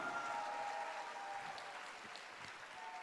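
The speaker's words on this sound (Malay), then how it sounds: "tepukan gemuruh untuk mereka." Faint, distant applause from an audience at a recognition ceremony, a steady wash of clapping with a voice briefly audible over it.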